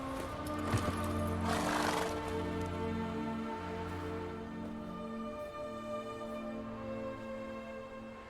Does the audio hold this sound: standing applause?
no